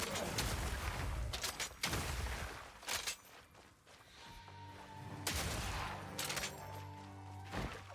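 Shotgun blasts from an ice shotgun in Path of Exile 2, fired by a mercenary: several loud, sharp bursts spaced irregularly, with a faint tonal hum and ambient game sounds between shots.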